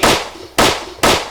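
Three loud, sharp gunshots from a firearm in the survival game 7 Days to Die, spaced roughly half a second apart, each with a quick decaying tail and no talking.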